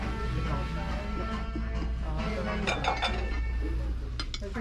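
Amber glass dishes clink and tap against one another while being handled at a thrift store, scattered bright chinks over a steady background of store noise and murmuring voices.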